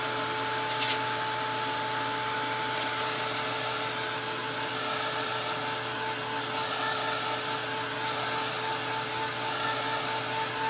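Handheld dryer blowing over wet acrylic paint on a painted piece, a steady loud whirring hum with a thin whine, continuous and close.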